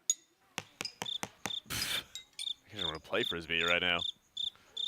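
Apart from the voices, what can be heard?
crickets chirping, added by production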